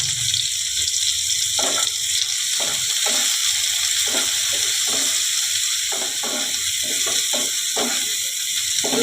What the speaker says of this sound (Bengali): এইভাবে একটু ভাজা ভাজা করতে হবে বন্ধুরা।